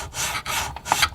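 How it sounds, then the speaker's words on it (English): A sanding stick rubs along a wooden plank for a 1/84 scale HMS Victory model, giving three or four close, dry, raspy strokes in a back-and-forth rhythm with brief pauses between them. "coming along with our sanding stick and just nicely bringing that lovely sort of curve to it"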